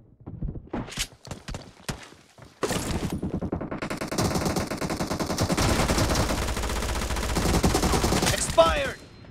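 Gunfire in the video game PUBG: a few sharp scattered shots, then a dense, sustained burst of rapid automatic fire that ends in a final loud crack.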